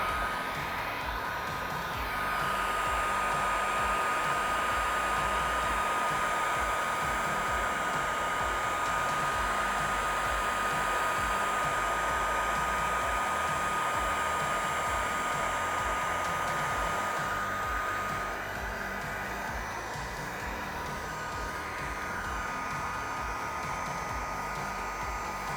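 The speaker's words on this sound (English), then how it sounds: "grab your heat gun. Right here we have it on low speed." Steady whooshing blow of a heat gun on low speed aimed at vinyl wrap on a Tesla Cybertruck, a continuous close hum with slight changes in tone as it moves.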